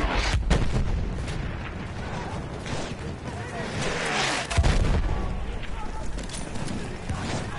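Bomb blast in Battlefield 1 during a Conquest flag defense, a heavy boom bursting out amid continuous rumbling battlefield noise, distant thuds and gunfire crackle.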